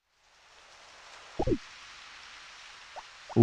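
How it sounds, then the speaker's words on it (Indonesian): Steady soft rain hiss from the farming video game Harvest Moon: Back to Nature, continuous across the clip with a few brief louder plops or thumps near the start and end, no talking. "Hujan."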